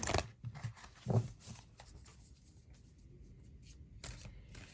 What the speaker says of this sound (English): I do shuffle these decks in between the readings very well as on camera